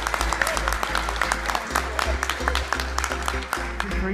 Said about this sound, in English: Give Lisa a massive round of applause